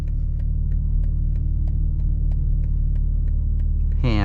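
A 2022 BMW M4 Competition coupe self-parks into a spot, its engine holding a loud, steady low idle rumble with faint regular ticking above it, then a brief rising whine near the end.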